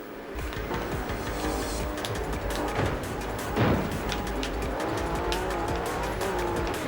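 A car in Cyberpunk 2077 drives at speed with a loud engine roar, tires squealing and skidding through turns, plus a sharp thud partway through, steady and close without any talking.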